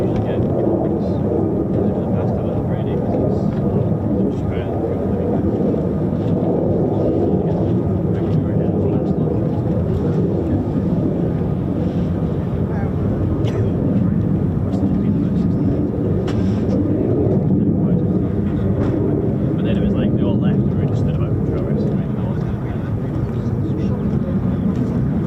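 US Air Force F-15 and F-35 fighter jets at RAF Lakenheath, engines spooling as a constant loud roar that lasts the whole stretch, with a voice talking over it.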